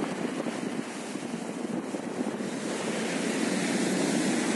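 Sea waves wash near the shore in Turkey in a continuous surf roar with wind buffeting the microphone, steady and swelling slightly toward the end, with no voices.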